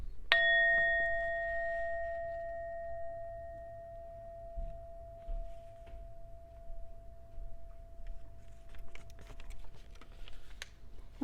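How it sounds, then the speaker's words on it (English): A small bell is struck once, ringing with a clear, sustained metallic tone that slowly fades over several seconds, followed by faint ticks and light clicks in a quiet room. "I'm going to go ahead and ding the bell."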